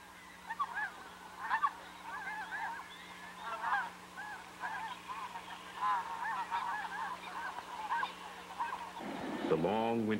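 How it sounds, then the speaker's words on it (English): Canada geese honk repeatedly while flying north in spring over the Canadian prairie marsh, a steady chorus of nasal calls from several birds at moderate distance, with a louder burst near the end. "The great V formations of Canada geese on wing from the south, honking loudly as they came."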